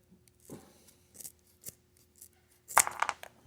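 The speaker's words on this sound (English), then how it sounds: "these are a little bit hard to cut. They're pretty thick wires." Thick wire connectors being snipped off an e-bike motor controller, with several crisp clipping cuts spread across a few seconds and a louder, harder crunch near the end, close up over a faint low hum.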